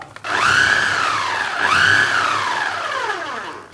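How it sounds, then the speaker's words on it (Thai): A food processor blends all-purpose flour, sugar and salt in a short burst, its motor whining up and settling twice with a rising-falling pitch, loud and close with no talking. "เดินเครื่องเพื่อให้ส่วนประกอบของแห้งเข้ากันเล็กน้อยครับ"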